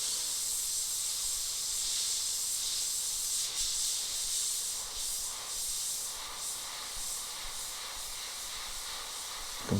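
An airbrush sprays paint onto a Labubu figure, producing a close, continuous airy hiss that holds steady for the whole stretch with slight pulses as the spray is worked.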